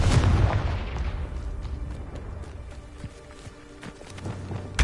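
A Confringo fire-blast spell from the Hogwarts Legacy game erupts in a heavy booming explosion at the start, its rumble fading away, with a second thump at the end.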